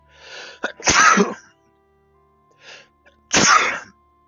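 A person sneezes loudly and close during a podcast recording, a first sharp sneeze with a smaller breathy burst before it, then a pause and a second forceful sneeze.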